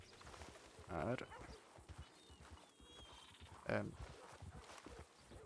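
Horse hooves clip-clop in a western-era video game near Blackwater, with a couple of louder hoof bursts standing out over a steady background and occasional game voices.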